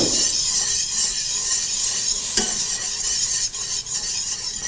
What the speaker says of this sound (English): I'm going to add some white balsamic vinegar